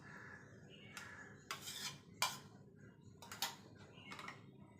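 A spoon stirs chia seeds into a milk and watermelon drink in a glass, giving several quiet, irregular clinks and scrapes against the glass spread over a few seconds, with no talking.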